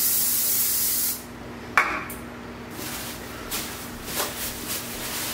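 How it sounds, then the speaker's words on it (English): A coconut-flavored cooking spray can hisses in a steady burst, then stops; a small clink and a few faint rustles and taps follow. "I usually use cooking spray, and I do have a nice coconut flavored one right here"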